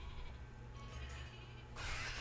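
Sheep in the video game Flockers give a faint bleat over a steady low game hum, with a brighter burst of noise at the end.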